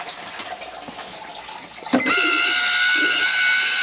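Water begins rushing through a GE water softener during its backwash cycle, a thin, low flow that starts suddenly after a click and then runs as a steady, fairly close hiss and trickle.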